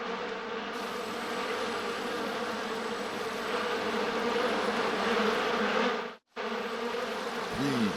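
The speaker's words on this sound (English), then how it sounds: "Bees. Why did it have to be bees?" A cartoon swarm of large bees buzzes in a steady, loud, dense drone that barely changes, cut by a brief silence near the end before the buzzing returns.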